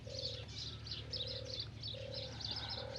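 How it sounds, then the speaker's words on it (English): A dove coos in repeated soft, low phrases at a steady rhythm, set against a calm natural background with chirping birds layered above. "Hear the cooing of the dove."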